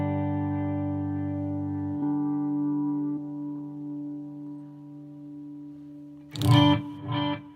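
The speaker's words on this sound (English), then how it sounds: "Here's a little bit of air delay." A sustained distorted electric guitar chord rings out and decays with echoing delay repeats, then two short strummed bursts follow near the end.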